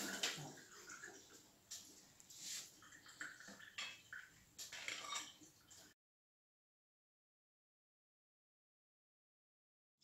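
Hot water from boiled scarlet eggplants (jiló) pours and splashes through a strainer in a kitchen, a close, continuous gushing and spattering for about six seconds before stopping abruptly into silence.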